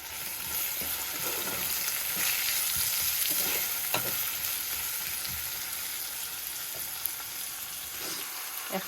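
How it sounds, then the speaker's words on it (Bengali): Onions sizzling in hot oil in a home kitchen pan, a steady close crackle broken by a few soft stirring scrapes and taps. "তেল গরম হয়ে গেছে পেঁয়াজ দিলে দিলাম"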